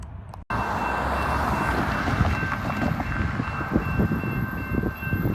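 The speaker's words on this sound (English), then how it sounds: "Here comes locomotive 5209." Locomotive 5209 rolls past on the rails, a loud, close, sustained rumble with rhythmic wheel clatter and a steady high tone, starting abruptly after a brief gap.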